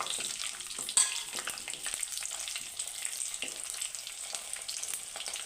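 Mustard seeds pop and splutter in hot oil with garlic and cumin in a pan, a dense crackling sizzle full of quick sharp ticks, close and fairly quiet, with one louder pop near the start.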